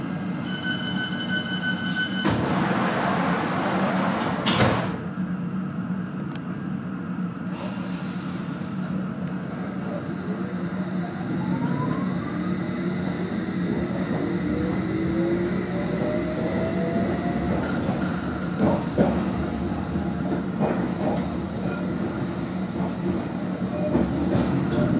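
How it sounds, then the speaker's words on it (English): London Underground District Line train heard from inside a carriage: a continuous loud rumble and rattle of wheels on track, with squealing rising tones, clunks and occasional beeps, and a public announcement voice partly audible over it. "This is a District Line train to Olympia."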